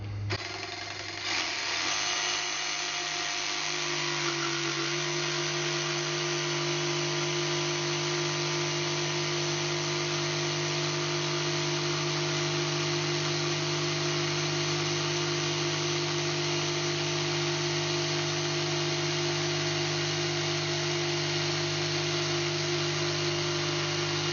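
A DeWalt DCS334 cordless jigsaw cuts slowly through 1 3/4 inch thick walnut, a steady, loud, buzzing whine with a constant hum that holds unbroken for the whole stretch.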